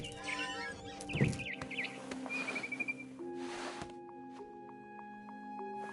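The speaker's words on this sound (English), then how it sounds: "Then I heard chirping outside my window. It was a barn swallow going back to her nest." A barn swallow returning to her nest outside a bedroom window in the game What Remains of Edith Finch gives a few quick, bright chirps and whistled notes up close, set against a quiet, humming ambient background.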